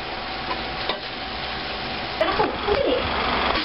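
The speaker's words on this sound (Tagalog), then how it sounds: "Halo ko na yung pasta doon sa ginisang tinapa." Pasta being stirred into sautéed smoked fish (tinapa) in a pan, a steady low sizzle with a few scraping, clattering stirs toward the end, no talking.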